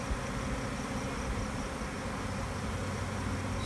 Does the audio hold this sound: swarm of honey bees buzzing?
yes